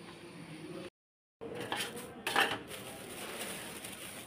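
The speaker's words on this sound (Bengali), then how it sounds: "এখানে যে তাওয়াটা রেখে দিছি, তাওয়াটাতে যে পরোটা ভাজছিলাম কালকে রাত্রে" Iron tawa griddle pan used for frying parathas being handled in a home kitchen, a faint clank and scrape of metal with a brief louder rattle of cookware midway, set against quiet room noise.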